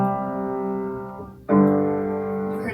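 Piano playing one sustained chord that fades and briefly cuts to near silence as the sustain pedal is lifted too early, then a new chord struck loudly and ringing on.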